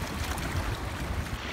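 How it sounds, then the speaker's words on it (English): Ocean waves wash steadily beside a park, a continuous rushing surf mixed with some wind noise, with no voices. "I just love listening to the ocean waves"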